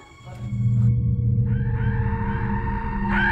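A loud, terrifying drawn-out scream rises out of a dark dramatized reenactment, holding at length with a wavering pitch and swelling again near the end, with no talk over it.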